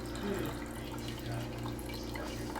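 Water is poured into the reservoir of a Keurig K-Brew and Chill coffee maker, a steady, continuous trickle close to the microphone with no talking.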